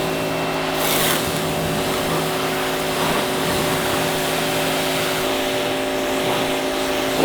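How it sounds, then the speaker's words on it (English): A pressure washer runs steadily while rinsing a Corvette outdoors on a hot day, giving a continuous loud motor drone with a hissing water spray that holds level throughout, with no one talking. "All right, let's rinse the car."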